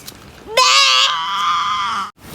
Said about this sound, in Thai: แพะอยู่นี่นี่